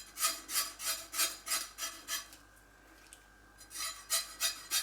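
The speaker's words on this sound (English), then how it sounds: "So just take your time and run the knife against the scales." A knife scrapes scales off a mackerel in quick, rhythmic rasping strokes, about a dozen close, even scrapes with a short pause midway before the strokes resume.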